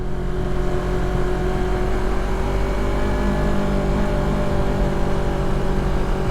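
A Yamaha R25 motorcycle engine revving steadily, loud and close, with a constant dense roar and wind rush and no pauses.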